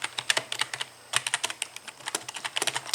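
Rapid clicky keystrokes tap on a new gaming keyboard, a steady burst of close, crisp typing with a brief pause midway.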